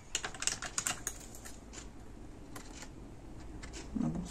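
Scissors snip through a small piece of paper during a gift-pouch craft project, several quick close crisp clicks at the start, then quieter rustling and a few more scattered snips.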